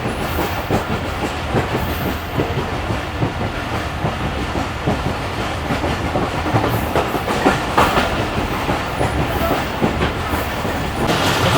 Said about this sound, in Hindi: इस वक्त हमारी ट्रेन पंजाब में घूम रही है